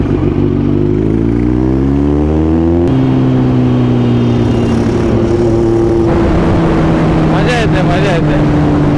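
Car engine downshifting through gears on a coastal road, with rising and falling engine tones and a gear change near the three-second mark, loud and close, with some voice and road noise mixed in.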